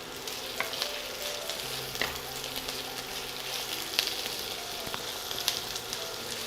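Chopped vegetables, including capsicum, fry in a pan for Schezwan fried rice, giving a dense continuous sizzle up close with intermittent stirring knocks and scrapes against the pan.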